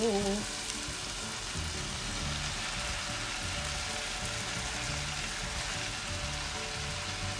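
Bottle gourd (upo) sautéing in a pan for a Filipino home-style dish, a steady close sizzle and crackle of frying that runs continuously with no talk.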